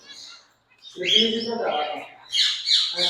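Exotic pet birds, including rosella breeder pairs, squawking and chirping at a pet shop in short harsh calls, close by, with a voice briefly talking among them.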